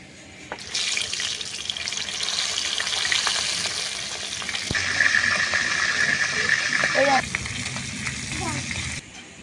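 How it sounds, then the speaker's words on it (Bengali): Tuna fish pieces frying in hot oil for a curry, a loud bright sizzle rising after a brief quiet start, with spoon clinks, a thump and a voice speaking partway through. "এরকমভাবে কিন্তু লাল লাল করে মাছগুলো ভেজে নিতে হবে।"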